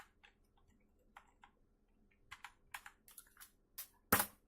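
Keys tapped on a computer keyboard while entering the ipconfig command, sparse quiet clicks at first, then a quicker run of keystrokes ending in a louder press like the Enter key.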